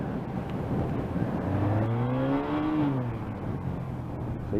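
A 1986 Honda Interceptor 500 motorcycle engine hums smoothly while riding, its pitch climbing and falling through a gentle rev under steady wind and road noise.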